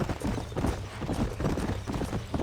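Horse hooves clip-clopping in Red Dead Redemption 2, a continuous close trot of overlapping hoof falls over a low rumbling background.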